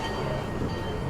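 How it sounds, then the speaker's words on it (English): Mt. Rainier Scenic Railroad train starting to roll, a steady loud low rumble and rattle of the cars with no voices. "The train's gonna start moving."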